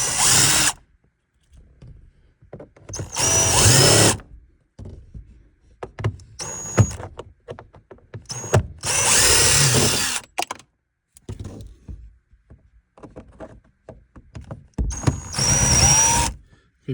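A power drill removes long Phillips screws from the dash of a 1982–92 third-generation Camaro, with several loud whirring bursts of a few seconds each separated by quiet pauses and handling clicks.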